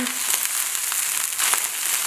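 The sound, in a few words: food crackling and frying in wok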